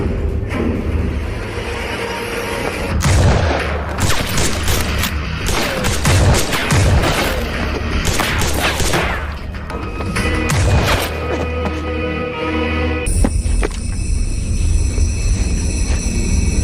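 Gunfire in a movie shootout: loud, near bursts of shots, booms and thuds, dense in the first half and in scattered clusters later. A brief passage near the end sounds different.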